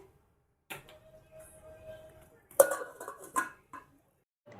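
A metal lid is set onto a pot of chicken biryani on the stove, giving a couple of sharp clanks and rattles, close and fairly quiet, with light handling noise before them.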